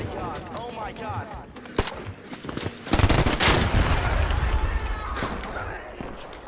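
Video game gunfire from players: bursts of shots and rapid automatic fire crackle over a busy mix, loudest in the middle stretch, with people talking throughout.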